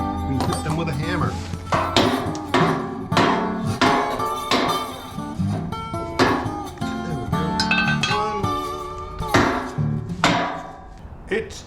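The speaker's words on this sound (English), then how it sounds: "We hit them with a hammer." Hammer blows strike metal parts of a Jaguar special during garage axle and chassis work, a dozen or so sharp ringing clanks spaced irregularly and close by, with brief talk between some hits.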